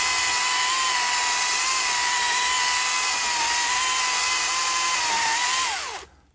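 A small Husqvarna electric chainsaw runs with a loud, steady, high-pitched whine held for several seconds, then spins down and fades away at the end.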